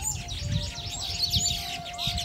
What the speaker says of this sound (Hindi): चिड़िया ने कितनी सोहनी आवाज है